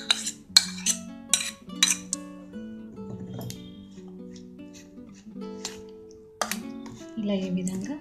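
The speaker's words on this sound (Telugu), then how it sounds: "ఈ విధంగా మిక్స్ చేసుకోవాలి" A spoon clinks and scrapes against a bowl while ragi dosa batter is mixed, with sharp metallic taps early and again near the end, heard up close under a background of tonal sound.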